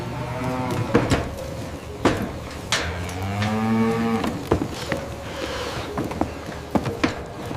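Dairy cows on a large farm that supplies milk for mozzarella moo repeatedly, several long, drawn-out calls overlapping one another at close range, with clanks and knocks from the barn between them.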